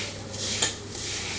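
A spoon briefly scrapes and clinks in a bowl while bajji muri puffed rice is tossed with sev and chaat masala, a soft rustling mix with one sharp metallic tick, close and alone.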